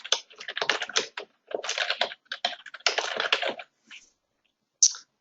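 Rapid bursts of computer keyboard typing as an email subject is entered, dense clattering keystrokes in several runs with brief pauses, close and clear with no voices.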